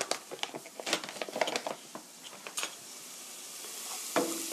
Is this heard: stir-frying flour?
yes